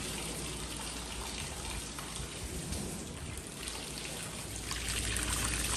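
Standard garden hose pouring volumes of water onto a Rough Collie's thick coat during a bath, a steady close splashing and trickling rush that continues throughout without speech.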